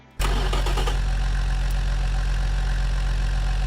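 A Chevrolet Stovebolt 6 engine fitted with a low-RPM torque exhaust fires up and settles into a loud, steady idle with an even low throb, close by and with no talk.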